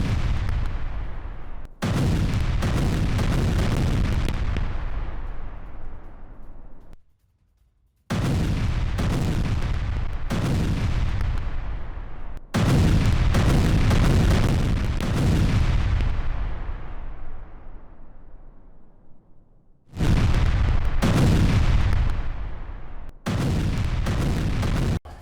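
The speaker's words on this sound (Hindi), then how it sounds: "जेडैम बमों से रूसी सैन्य बिल्डिंग पर हमला" Heavy bomb blasts hit a Russian military building in Kursk: a series of deep, loud booms, each followed by a long rumbling decay, with a short gap between some strikes and several blasts in close succession.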